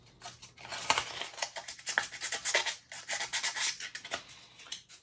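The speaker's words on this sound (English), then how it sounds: "so I'll use the sandpaper this time, right around this part right here where it's sticking out." Sandpaper rubbing a wooden UGears model part, quick repeated scratchy back-and-forth strokes in an uneven rhythm, close and moderately loud.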